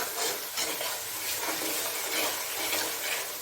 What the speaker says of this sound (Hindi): थोड़ी देर के लिए इसको मैंने भूनना है